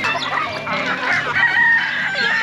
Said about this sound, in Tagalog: itong mga manok at pabo natin dito